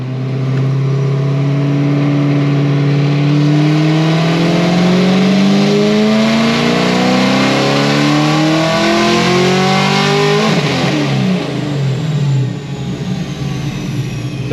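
A supercharged Pontiac GXP engine revs hard and loud up toward 6,000 rpm, its pitch climbing steadily with a whining blower note before dropping off near the end, heard close with no talk.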